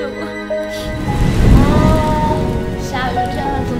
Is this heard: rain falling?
yes